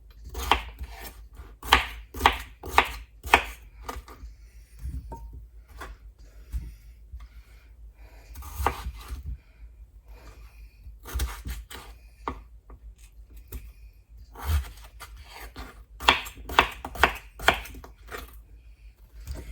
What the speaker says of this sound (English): I'm chopping these all up.